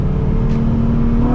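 A Nissan 350Z engine drones at high revs above 5,500 rpm, a steady mid-pitched roar that holds for a moment, close and loud.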